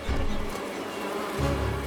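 Cartoon bees drone in a low, continuous buzz, close and steady, swelling slightly at the start and again near the end.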